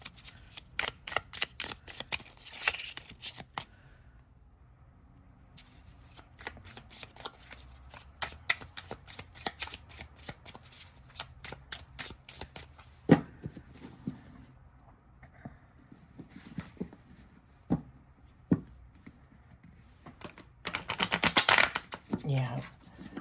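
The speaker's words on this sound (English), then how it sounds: "let's see how this little one shuffles" A small tarot deck is shuffled in repeated bursts of rapid riffling card flutters, close and crisp. Quiet pauses separate the bursts, and a louder flurry comes near the end.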